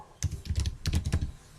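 Bursts of clicky computer keyboard typing, close and dry, with short pauses between runs of keystrokes.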